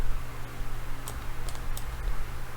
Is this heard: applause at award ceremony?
no